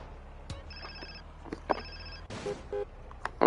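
In Grand Theft Auto: San Andreas Definitive Edition, an in-game phone rings repeatedly in short electronic trills, with a few sharp clicks and game effects mixed in.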